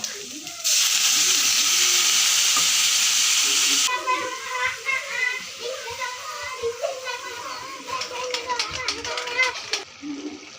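Spiced meat sizzles loudly in a pan right after a little water is added, a steady hiss that settles into softer crackling and bubbling, with children's voices chattering in the background.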